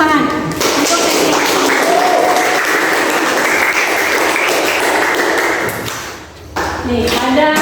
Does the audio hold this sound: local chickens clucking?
no